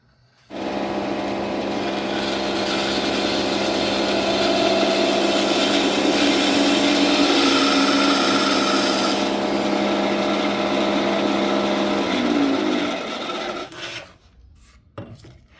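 A power tool rasps steadily through a wooden patch for an heirloom cradle, a loud continuous grinding for about twelve seconds before it winds down and stops.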